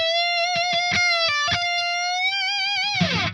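Kiesel LPM electric guitar, a Lee McKinney model, played as a solo through an OD 200 overdrive pedal with no EQ: a sustained lead line with bends and a few quick picked notes, loud and alone, ending in a gritty distorted swell.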